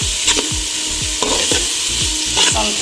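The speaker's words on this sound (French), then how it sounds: "Donc je mélange le tout." Softened onions with masala stirred in a pan for a Comorian coconut-milk chicken rice, a spoon scraping in about six regular strokes over a steady, close sizzle, with no talking.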